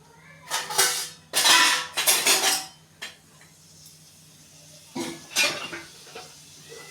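A metal kadai set down on a kitchen stove, a few scattered clattering knocks and scrapes of cookware, close and moderately loud with quiet gaps between them.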